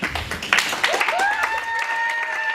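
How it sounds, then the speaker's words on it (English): Audience applause at a community association meeting, a burst of clapping that stays steady and fairly loud, with voices calling out over it. "please clap for him"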